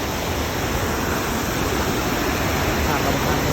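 Floodwater overflows at Tao Ngoi rapids (Nam Phung Tao Ngoi) in a continuous, loud, close roar of rushing water that never lets up.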